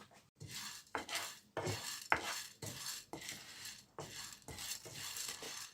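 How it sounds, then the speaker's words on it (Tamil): Chana dal dry-roasting in a pan, stirred in a regular rhythm of scraping, rattling strokes with the lentils shifting against the metal, close but fairly quiet, with no voices. "கடலைப்பருப்பை முதல்ல சூடு பண்ணி கொஞ்சம் சிவக்க வறுத்து எடுக்க வேணும்"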